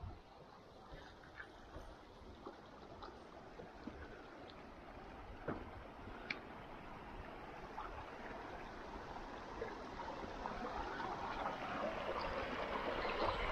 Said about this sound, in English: We have water that's carrying some glacial flour, and then we have a clear stream.